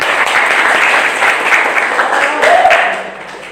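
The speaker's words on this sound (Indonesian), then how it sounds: "Ibu mau tepuk tangan dulu buat semuanya." Group of people in a classroom guidance session clapping together, a steady close wash of applause running throughout; a voice briefly sounds over it near the end.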